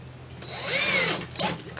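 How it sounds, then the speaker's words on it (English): A power drill drives 1-inch screws into pocket holes in a wooden drawer, a rising whine swelling to a peak near the middle and then dropping with a brief second burst, close and fairly loud with no talking. "And you just drill them in."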